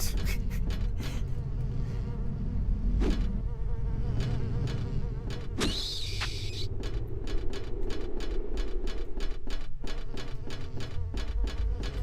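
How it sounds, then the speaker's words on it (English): Mosquitoes in the video game Silent Hill 4 buzz and whine steadily throughout, loud and close, with sharp clicks and thuds scattered over the constant insect drone. "Oh my god, there's more mosquitoes."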